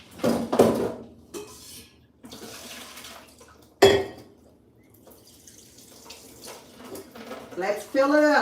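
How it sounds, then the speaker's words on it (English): Water from a kitchen tap runs into a drinking container in bursts, with clinks and handling noise, and a person talks in between and over the flow. "Let's fill it up. Fill up that water."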